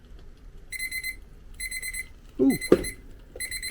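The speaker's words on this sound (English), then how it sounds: "We got the timer on." A kitchen timer alarm sounds while apple pie turnovers cook on a stovetop: three rapid bursts of bright electronic beeping, with a brief startled exclamation and some clatter between the second and third bursts.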